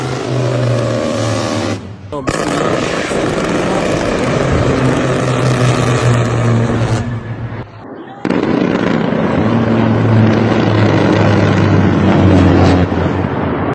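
An A-10 Warthog attack aircraft fires its seven-barrel GAU-8 Avenger Gatling gun during strikes in Northern Iraq, two long, loud, roaring bursts of dense buzzing noise split by a brief gap, with a low engine rumble underneath.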